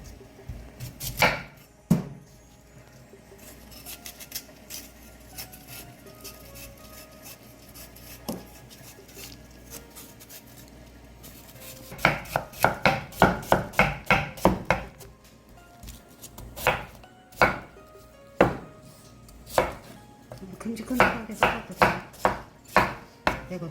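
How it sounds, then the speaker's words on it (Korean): A knife chops pear and vegetables on a cutting board in irregular bursts, with quick runs of close, crisp strikes and scattered single cuts between quieter pauses. "깎아서 썰어서 넣을 거예요."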